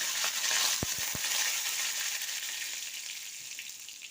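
Curry leaves dropped into hot oil already holding cumin and black mustard seeds, a bright steady sizzle with a few quick crackling pops early on, gradually easing.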